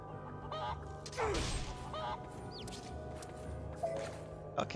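Chickens in the video game Odin Sphere Leifthrasir squawk in a few short, scattered calls over a steady, droning game background.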